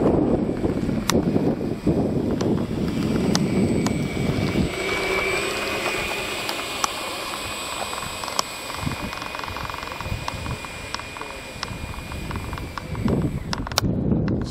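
An electric ducted fan model jet whines past in flight, a thin high-pitched whir that rises and holds as it passes, with faint clicks and outdoor ambience around it.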